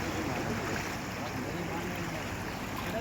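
Floodwater from heavy overnight rain rushes through a village, spilling as far as a temple, in a continuous dense roar of moving water with no break.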